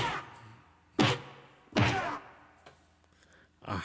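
A punch sound effect from a Roland FP-30X digital piano lands as two loud, heavy thwacks about a second apart, followed by fainter softer knocks, alone with no talk.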